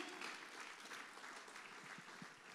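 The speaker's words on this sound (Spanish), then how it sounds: "Vamos, dale un aplauso al Señor." Applause from a church congregation, dense steady clapping heard somewhat distantly for a couple of seconds without talk.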